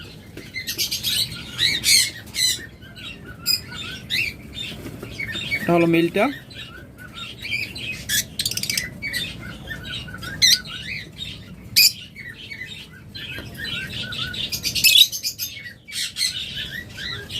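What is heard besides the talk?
pet birds for sale calling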